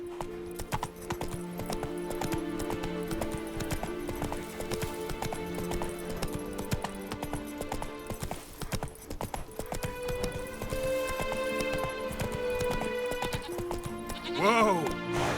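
Steady clip-clop of the horse Roach's hooves in The Witcher 3, a continuous trotting rhythm under game music and a voice, ending with a short neigh.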